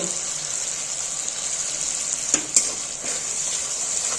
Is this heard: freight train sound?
no